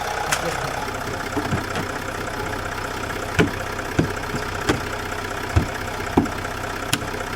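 A Range Rover L405 3 litre TDV6 diesel engine idles steadily after an injector change, a smooth low hum with faint periodic knocks, close by and moderately loud, with a voice heard over it.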